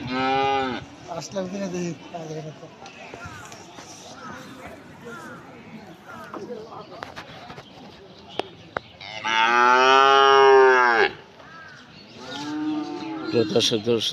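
A cow lets out a loud, drawn-out moo near the end at a cattle market in Manikganj, Bangladesh, while people talk and call out over a busy background of voices.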